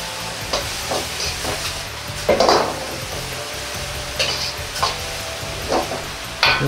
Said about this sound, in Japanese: ここでスープに野菜の旨味を移すようにして軽く煮ます